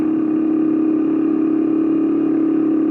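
A motorbike engine revs hard and steadily as it climbs a steep mountain road toward Playen, Gunungkidul, giving a loud, sustained, high-pitched drone held without a break and close up, with no talk over it.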